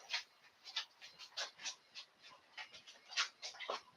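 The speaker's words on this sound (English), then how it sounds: "Livestock guardian dogs." Anatolian Shepherd livestock guardian dogs make faint, quick rhythmic panting and soft whimpering sounds close by in a quiet room, a steady series of short breathy bursts.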